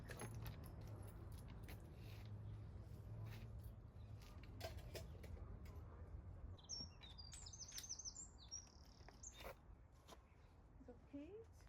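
Keys jangling in a metallic, irregular rattle through most of the stretch, with birds chirping nearby and people talking around it outdoors.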